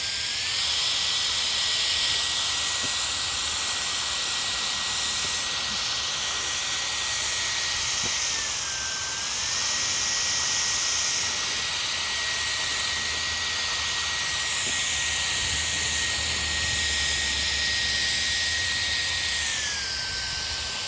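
A Fanttik B10 Pro Max electric air duster blows on max mode, a loud, continuous high-pitched whine and rush of air that holds steady for about twenty seconds with only a momentary dip partway through.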